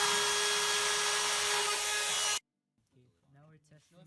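A power drill bores holes for a fluidized bed science project, a loud steady whine for about two seconds before cutting off abruptly, followed by voices talking.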